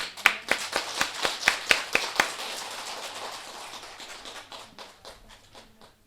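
Applause rises in a church during a Christmas Sunday service to welcome a speaker: a dozen sharp, rhythmic unison claps that then give way to a softer, scattered patter fading out.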